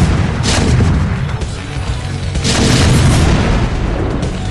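Siege tank artillery in StarCraft, a dense, loud roar of heavy booms and bursts rumbling on continuously, with two sharp blasts standing out.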